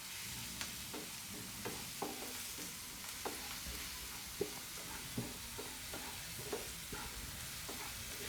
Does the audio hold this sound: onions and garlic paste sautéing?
yes